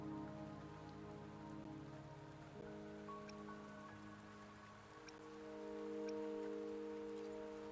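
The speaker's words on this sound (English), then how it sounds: "Don't worry, the rain won't last much longer." Rain falling in a video game, a soft continuous patter on surfaces, faint and even, under sustained tonal music.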